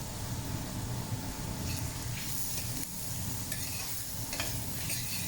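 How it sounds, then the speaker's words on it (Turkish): Peppers and garlic sauté in a pan for meat sauté, giving a continuous close sizzle with crackling spatters and the scrape of stirring. "Biberimi de bir miktar kavurduktan sonra sarımsağımı ilave edeceğim. Sarımsakları da kavuracağım."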